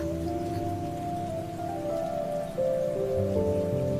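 Rain falls on a terrace as a steady, dense patter, with a faint low tonal hum underneath and a slight rise in loudness partway through; no voices are heard.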